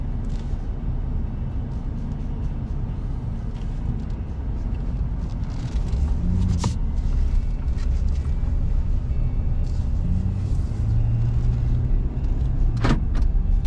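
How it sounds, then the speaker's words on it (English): Steady road traffic passes close by a parked RV, a continuous roar of tires and engines with a couple of brief higher swishes as individual cars go past. "Wait for these cars to go by."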